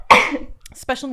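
A single sharp sneeze bursts out close to the microphone during a podcast conversation, followed by a short pause and then a voice speaking.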